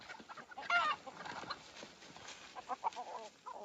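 Domestic hens at a rural farmstead clucking close by in a short burst of several clucks, fairly faint, with no talking.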